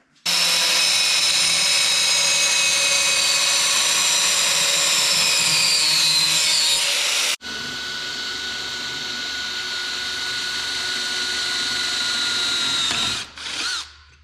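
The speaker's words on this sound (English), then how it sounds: "how do we cut it off? Die grinder." A die grinder cuts through metal with a loud, steady high-pitched whine that runs unbroken for several seconds, dips briefly as the tool shifts, then resumes cutting and spins down at the end.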